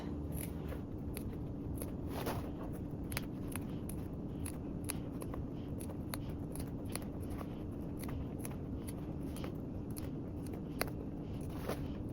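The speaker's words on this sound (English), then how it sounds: "make those snips around" Quiet, rapid snips of scissors cutting fabric for a tote bag, a long run of short crisp clicks at an irregular pace, close and faint over soft background hiss.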